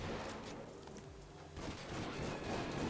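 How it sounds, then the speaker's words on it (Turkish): Gunfire from a pump shotgun in the FiveM video game with a realistic sound pack: loud, dense blasts run back to back for about three seconds with a heavy low rumble and no talking. "Pompalı bu böyle."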